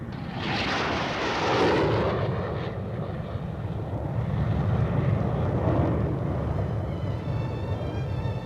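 Pakistan Air Force military aircraft flying on a combat training mission, a steady loud roaring engine wash that swells and fades slightly over several seconds, with no talk.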